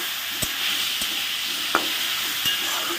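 Cashew nuts frying in a pan with a pinch of salt give off a steady close sizzle, broken by a few sharp knocks of a spatula stirring them.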